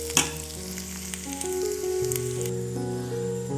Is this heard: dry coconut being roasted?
yes